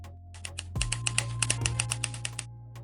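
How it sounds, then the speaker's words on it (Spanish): Rapid typewriter keystrokes clatter in a steady run of sharp, crisp clicks, with a low hum beneath and a final lone strike after a short pause. "algún sonido de máquina de escribir que nos cree más ambiente"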